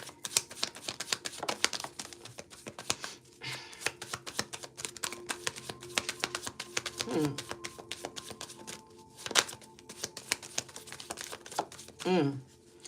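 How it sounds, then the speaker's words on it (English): Cards are riffled and shuffled in repeated bursts of crisp rapid flutters and snaps, with a voice speaking quietly between them. "I'm just shuffling the deck."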